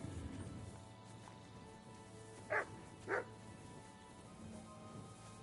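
A dog named Mutt in the video game Kingdom Come: Deliverance 2 gives two short barks a half-second apart, moderately close, over quiet ambient game sound.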